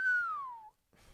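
A person whistles a single long, clear note that glides slowly downward, loud and close, then stops; after a short silence a faint rustle follows.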